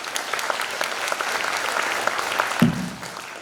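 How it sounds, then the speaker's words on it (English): An audience at a virtual reality summit panel applauds the moderator with dense, steady clapping that fades near the end, broken by one brief thump. "So let's give Marcy a big round of applause."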